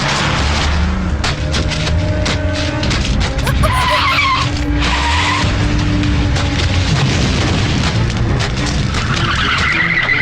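In a Tamil drama scene, a car revs and speeds off with loud tire skidding and screeching, engine roaring close amid crashing bursts, with voices shouting over the commotion.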